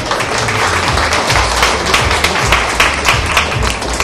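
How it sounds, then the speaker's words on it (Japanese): A crowd at a golf match applauds the players. The clapping is loud and dense and continues steadily from start to finish. "皆さん大きな拍手お願いします"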